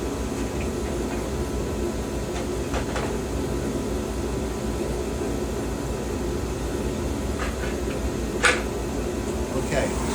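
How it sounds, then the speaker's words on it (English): A car heater blows inside a Jeep Wrangler under restoration, a steady broadband whoosh with a few faint clicks and a brief knock near the end. "Okay, so the heater just turned on."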